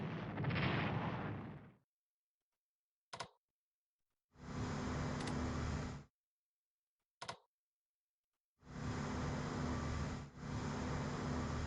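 Battleships in Strategic Command WW2: War In The Pacific carry out a naval bombardment. Three long, heavy rumbling artillery barrages alternate with two short sharp cracks, each separated by silence, with no voices.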